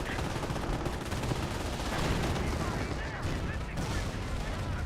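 A bombing run in the WWII strategy game Company of Heroes, with dense rumbling explosions and rattling gunfire forming a continuous loud barrage.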